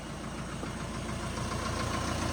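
A tractor engine idles steadily close by, a continuous low rumble with a faint rhythmic knock and no voices.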